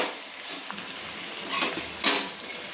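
Chopped tomatoes are stirred in hot oil in a pan for a cabbage chicken curry, with a soft steady sizzle and a couple of louder scraping stirs, close and brief.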